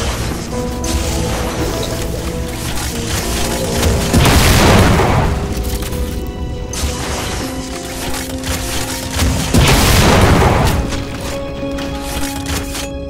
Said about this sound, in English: The explosion is fine already.